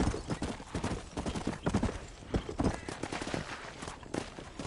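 Horse hooves clatter in a fast, steady galloping rhythm in the video game Red Dead, loud and close, with no voices over them.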